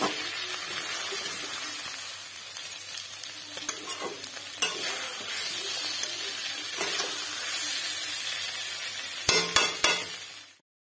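Potato chorchori stirred in a pan, a steady sizzle with a spoon scraping and rustling through the vegetables, broken by a few sharp clacks near the end before the sound cuts off; no talking.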